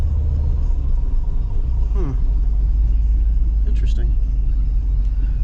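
A Monte Carlo SS on its first drive after revival rumbles with a steady low engine drone, loud and close, while someone briefly speaks over it.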